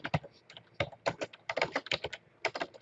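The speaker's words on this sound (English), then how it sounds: "you can just type out the words" Fingers typing on a computer keyboard, a quick irregular run of crisp key clicks in short bursts with brief pauses between, close and clear with no talk.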